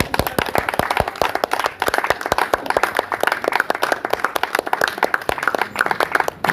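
A church congregation claps, dense and lively, with many hands at a quick, roughly steady beat that sounds close and loud, while faint voices mingle underneath.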